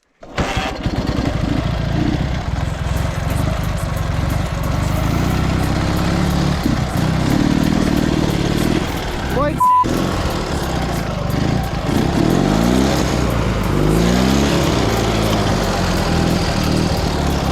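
A Minsk 125 or Dnepr MT11 motorcycle engine running loud and close, revving and straining as it climbs a hill, with steady throttle changes throughout and a brief dropout near the middle.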